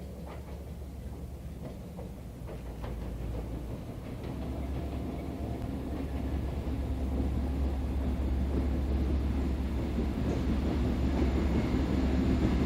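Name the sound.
Reading and Northern trains passing through tunnel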